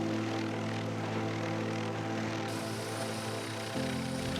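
Steady loud drone of a helicopter's engine and rotor, continuous and close, with a slight shift in pitch near the end.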